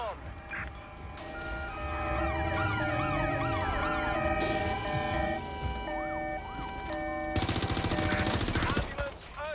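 Wailing ambulance siren in the video game Watch Dogs: Legion, sweeping up and down over dense traffic and engine rumble, with another siren tone and a sudden harsh burst of noise near the end.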